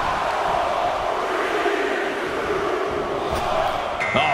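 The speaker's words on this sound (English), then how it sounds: "Listen to this crowd count the next one in" A dense virtual crowd in the WWE 2K24 wrestling game chants in unison during a Royal Rumble match, a loud steady roar filling the arena with a brief sharp impact near the end.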